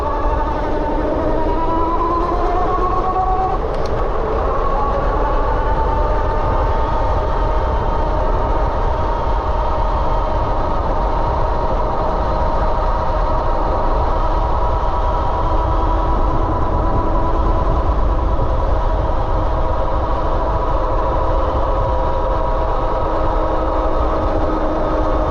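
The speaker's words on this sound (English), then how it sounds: "I'm holding it full throttle right now, and this is all it's giving me" A BBSHD mid-drive electric bike motor runs at full throttle, a steady whining hum with layered tonal harmonics and broadband rumble, loud and constant throughout with no talk.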